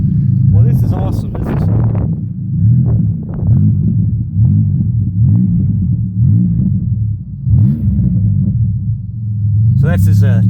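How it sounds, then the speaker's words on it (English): A 2003 Buick with its muffler rotted off rumbles loudly through an open exhaust, a deep throbbing drone that pulses steadily close by, with people talking over it. "So that's his 2003 Buick with the muffler rotted off. With no exhaust."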